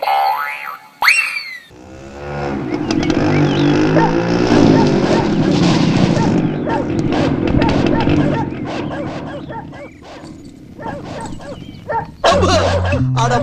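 Dogs left below bark repeatedly in a Tamil comedy film scene, loud yips and woofs layered with music and comic boing effects, with people talking over them in stretches.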